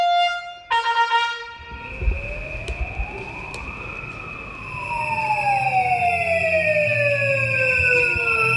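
Emergency sirens during the Birmingham bin strikes, several wailing tones rising and falling and overlapping loudly over traffic rumble, with a horn-like blast at the start.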